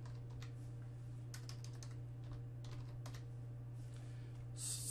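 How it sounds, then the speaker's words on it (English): Steady typing on a computer keyboard while entering a search term into concept-mapping software, soft rapid key clicks running throughout over a constant low electrical hum, no talking. "type in Bacon,"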